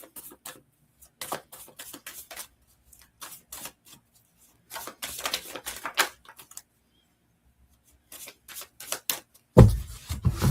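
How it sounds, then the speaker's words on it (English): Tarot cards shuffled and pulled during a psychic reading, crisp papery riffles and flicks in scattered bursts separated by quiet pauses, close and fairly soft, with a louder rustle at the end. "Let me pull you a couple of cards."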